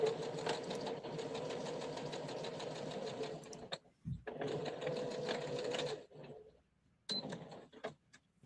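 Domestic sewing machine stitching along basted seam lines, a steady fast whirring run with two brief pauses and a short final burst, close and fairly loud.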